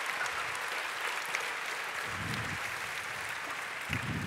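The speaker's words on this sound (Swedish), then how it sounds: "Varm applåd!" Warm applause from the audience at a chef-of-the-year competition final greets guests walking onto the stage, a steady, fairly distant mass of clapping with faint low murmurs beneath it.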